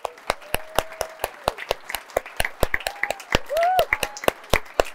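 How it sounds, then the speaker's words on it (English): A small live audience at a panel event applauds, with distinct, sparse hand claps ringing out steadily for several seconds, fairly close, alongside a few faint murmuring voices. "can I have a huge round of applause for our panelists?"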